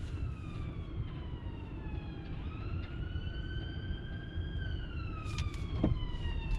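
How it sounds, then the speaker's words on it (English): An ambulance siren wails from somewhere in traffic, its rising and falling tone fairly distant and steady over the constant rumble of a car driving on the road. "I can hear that ambulance somewhere."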